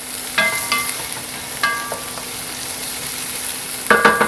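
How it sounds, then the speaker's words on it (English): Chopped onion sautés in a pan with a steady, fairly loud sizzle, broken by a few light utensil clinks and stirring scrapes. "Now I'm going to let that saute for a good 2 minutes."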